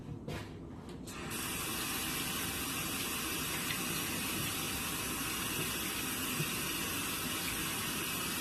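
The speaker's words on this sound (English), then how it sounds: "So let me wash my hands." Hands are washed under a running kitchen tap: a steady, close hiss of flowing water begins after a brief pause and continues evenly to the end, with no talking.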